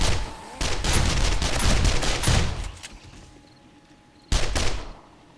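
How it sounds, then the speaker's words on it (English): A submachine gun fires in the video game 7 Days to Die, with a long, loud rattling burst and then a second short burst after a brief lull. "SMG."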